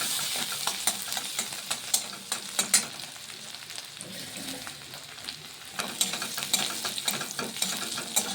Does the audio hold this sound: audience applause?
no